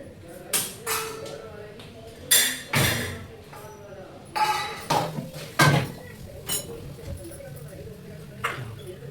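Dishes, pots and utensils clinking and clattering while a kitchen is tidied up after cooking, a series of irregular metallic knocks and clinks at close range with soft background sounds between them.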